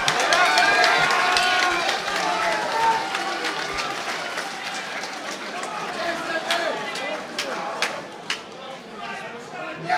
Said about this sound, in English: Give a big round of applause, folks